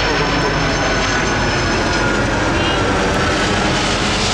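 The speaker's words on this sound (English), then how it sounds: "We also have noise pollution because we are in the direct flight path of Newark Airport." A loud, steady roar of a jet airplane engine passing close overhead in the direct flight path of Newark Airport, broadband and constant throughout, with no voices.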